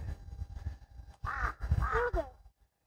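Crows cawing near a parked camper van at a festival stop, a few hoarse harsh calls in a short burst after quieter low rumbling background, fairly close.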